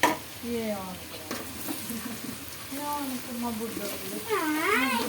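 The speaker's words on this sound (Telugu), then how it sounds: "ఉల్లిపాయలు చిన్న చిన్న ముక్కల కోసం వేసుకోవాలి ఫ్రెండ్స్" Chopped onions fry in a pan with a steady low sizzle and light stirring, while a cat meows repeatedly close by over the cooking noise.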